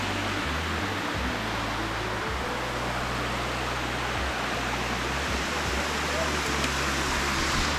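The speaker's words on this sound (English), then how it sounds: "It's a cool waterfall." A waterfall in Thailand roars as a steady, broadband rush of falling water, loud and close, continuous with no pauses, while low rumbling undertones shift beneath it.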